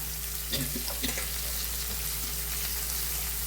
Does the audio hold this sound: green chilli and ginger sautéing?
yes